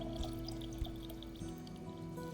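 Finished kombucha tea is poured as starter into a fermenting jar, a faint, short liquid pour with a light gurgling trickle against low background hum.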